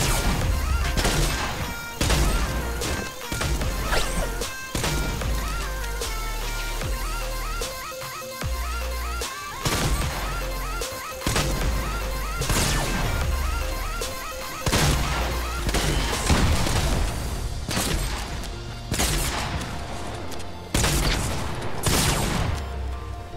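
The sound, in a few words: gunfire in Fortnite Battle Royale video game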